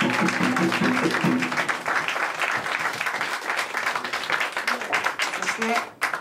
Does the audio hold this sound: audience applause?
yes